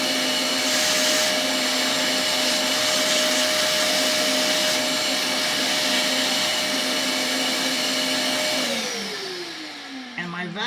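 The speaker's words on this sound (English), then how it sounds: "And my vacuum won't take them off." A vacuum cleaner tries to suck up metal filings, roaring loudly and steadily with a whining tonal hum, then spinning down in a falling pitch as it switches off near the end.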